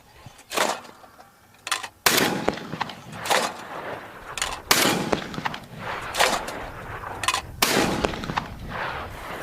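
Semi-automatic shotgun, a Beretta A400 Extreme Unico or Remington Versa Max, firing several sharp outdoor shots in quick irregular succession, each a loud crack with the action cycling between, close to the listener.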